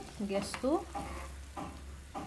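Water coming to a boil in a pot on a gas stove, a low steady bubbling rumble heard close but faint, with a few brief tonal squeaks and knocks on top.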